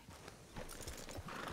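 Horse hooves clip-clop steadily in Red Dead Redemption 2, a rider on a big Shire horse, close and clear over a soft game background with no talk.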